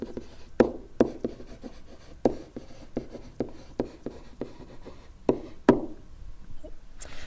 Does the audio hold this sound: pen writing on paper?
yes